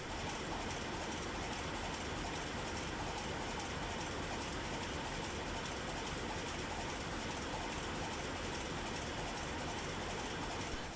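The main engine of the ship MS Harald Jarl runs in its engine room, a loud, dense, unbroken mechanical roar and rumble that holds steady throughout with no voices.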